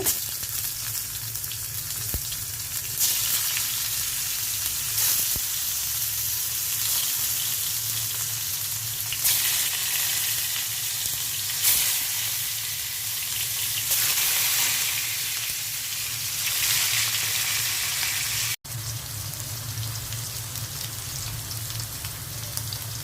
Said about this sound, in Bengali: কাঁকরোলগুলো ভেজে নিচ্ছি